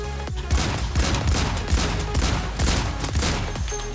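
Rapid Desert Eagle pistol shots in the battle royale game Islands of Nyne, loud repeated bursts of gunfire with a steady rhythm across the whole stretch and no talking.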